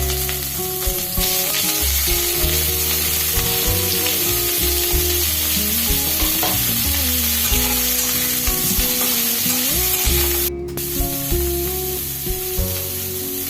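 Half-boiled cauliflower dropped into hot oil for a cauliflower and small potato dum, a loud, sustained sizzle with spattering and stirring under steady background music, briefly dipping near the end.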